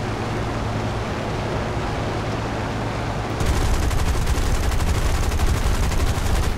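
Aircraft machine-gun fire in the War Thunder combat game, a dense, steady roaring burst that starts abruptly halfway through after a low engine drone, loud and continuous with no talk.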